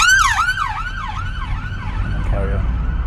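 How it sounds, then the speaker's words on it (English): An ambulance siren wails loudly on the road, its rising and falling tone sweeping repeatedly as it passes close by, heard from inside a car during a driving lesson. "I can see an ambulance car coming down the road"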